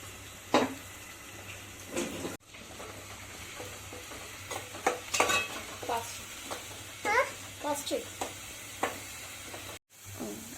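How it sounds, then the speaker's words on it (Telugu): Onion paste frying for egg curry in a pan, a steady sizzle with intermittent stirring scrapes and clinks, fairly close and moderately quiet. "ఆనియన్ పేస్ట్ ఫ్రై అయింది కదా"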